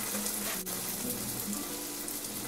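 Medu vada batter sizzles in hot oil as a soft, steady crackling fry, fairly faint, with a small splash near the start.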